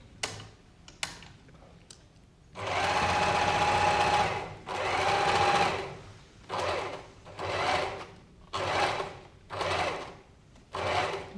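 A sewing machine stitches a curved hip pocket in several bursts, a long first run and then shorter stop-start runs with quiet gaps between, heard close with no talking.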